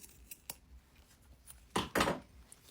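Several quick scissor snips close by trimming fabric at a zipper, a couple of light cuts followed by two louder, crisper snips near the end.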